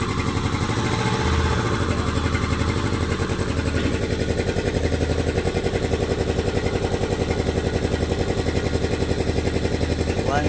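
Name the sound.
Kawasaki 700cc jet ski engine running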